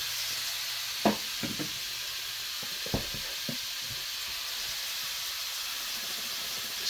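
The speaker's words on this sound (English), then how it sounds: "we'll go ahead and add in the cauliflower rice" Cauliflower rice added to softened onions sizzles quietly in a pan, a soft steady hiss broken by a few light knocks of a utensil.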